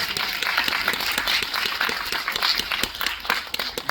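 Cinema audience at a film screening Q&A applauding the production company head, a crisp crackle of many hands clapping, moderately loud and steady.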